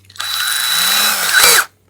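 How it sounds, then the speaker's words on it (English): A power drill bores a 1/8 inch hole into a small wooden keychain piece, whining steadily for about a second and a half at close range, then cutting off abruptly. "Next, you want to drill an 1/8 inch hole"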